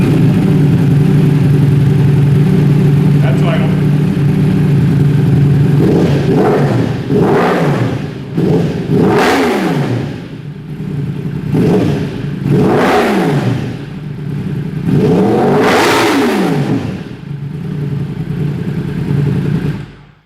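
Yamaha YZF-R1 with an Arrow competition full exhaust and the dB killer removed, idling loudly then revved in several sharp blips that climb and fall back, close and raw, with no talk.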